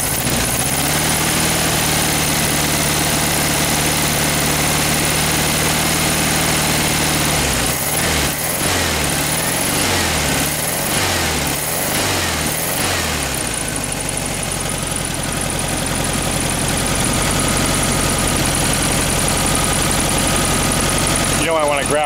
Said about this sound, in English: First crank that you saw,